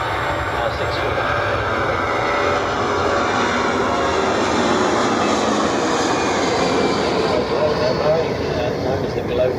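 A Royal Australian Air Force C-17 sits at an airshow while its jet engines put out a loud, continuous roar and rumble, with a voice talking faintly underneath.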